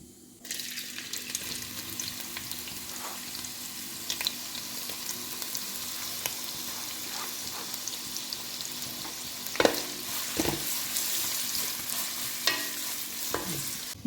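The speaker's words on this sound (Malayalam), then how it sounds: "ഞാനൊരു സവാള ചെറുതായി അരിഞ്ഞ് വെച്ചിട്ടുണ്ട്. ഇത് നമുക്ക് നന്നായിട്ടൊന്ന് ഫ്രൈ ചെയ്തെടുക്കാം." Chopped onion frying in sunflower oil in a pan, a steady close sizzle with occasional stirring scrapes and clatters, no talking.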